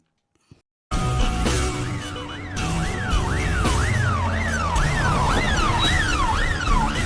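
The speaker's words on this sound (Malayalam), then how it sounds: "അത് പോലീസ് വണ്ടിയാണ് മോനെ, പോലീസ് ബണ്ണുണ്ട് മോനെ." A police vehicle siren wails loudly and close, its rising-and-falling tone repeating steadily after a brief quiet start, alone without voices.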